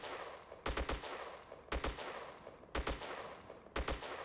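A Type 95 rifle in a video game fires in short two-round bursts, four bursts spaced about a second apart, each a sharp loud crack standing out over a quiet background.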